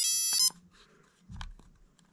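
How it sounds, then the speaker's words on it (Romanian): An old Texaco digital clock sounds its alarm with a short, piercing electronic beep burst, followed by faint clicks and handling noise nearby. "Și asta e alarma care poți să setezi."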